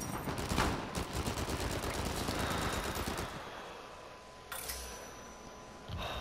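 A player's gun fires in a video game: a rapid burst of shots for about three seconds, then quieter, with a couple of short bursts near the end, all fairly faint.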